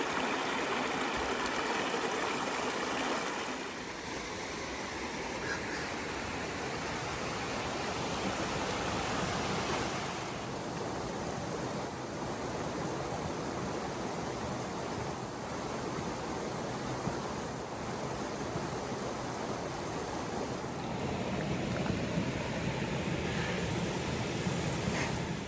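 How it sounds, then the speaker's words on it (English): A small babbling creek flowing through a mountain meadow, a steady, dense rush of water heard at moderate volume throughout with no break. "Little babbling brook in this meadow."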